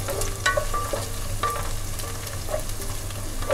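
Chopped onions sauté in hot oil in a pan, a steady close sizzle broken by repeated scraping and clinking strokes as a utensil stirs them.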